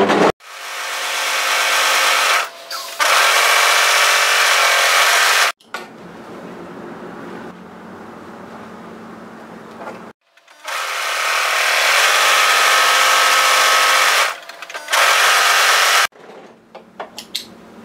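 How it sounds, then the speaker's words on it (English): An overlocker sergeing the long curved outer edge of an elastic channel piece for an apron dress, running in two loud sustained bursts of steady machine whirr with brief pauses, separated by a quieter stretch of handling noise. "So we need to serge tidy this long curve outside edge"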